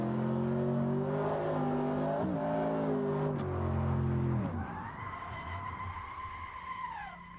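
F4 race car on a racing circuit at Virginia International Raceway, its engine revving and shifting loudly with tire skidding, then the pitch drops and another engine tone rises as it changes gear.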